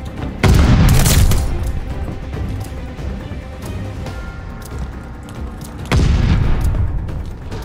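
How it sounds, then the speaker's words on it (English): Stun grenades detonating in Call of Duty: Vanguard free-for-all play, two loud booming blasts several seconds apart, each ringing out and decaying into a dense rumble of gunfire and battle noise. "Throwing stun grenade"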